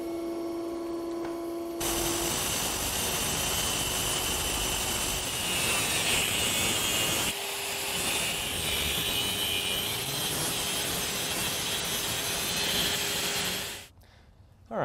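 Power tool grinding steadily through metal motor shafts, a loud continuous whine that holds for about twelve seconds, broken by one short pause midway, before cutting off abruptly.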